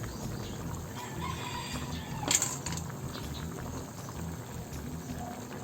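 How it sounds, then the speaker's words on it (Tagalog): Steady bubbling of a pot of Filipino tinola fish soup at a rolling boil, a continuous soft liquid churn with a brief louder burst midway, no voices. "Ayan, kumukulo na."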